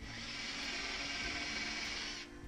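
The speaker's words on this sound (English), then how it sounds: "drilling holes in the boat" A power drill whirs continuously while boring holes in a lapstrake boat hull, a steady high-pitched motor whine held for about two seconds before cutting off.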